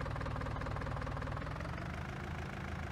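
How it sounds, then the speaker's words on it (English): An old barn-find farm tractor engine runs in first gear with a steady, knocking mechanical chug, close and fairly loud, holding an even rhythm throughout. "This is a cool little tractor."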